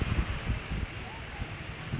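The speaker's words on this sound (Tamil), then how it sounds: "நல்லா ஹெவியாக அடிக்குது காற்று" Strong wind and ocean waves at a beach: blustery roar buffeting the microphone over a continuous wash of surf, loud and close throughout.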